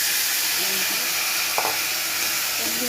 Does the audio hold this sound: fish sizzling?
yes